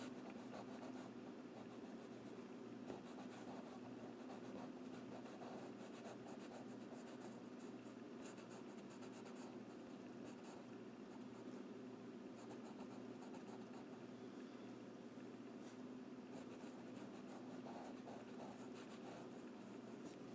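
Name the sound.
pastel pencil drawing on paper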